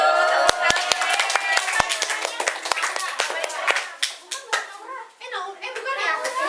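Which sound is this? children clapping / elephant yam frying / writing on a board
children clapping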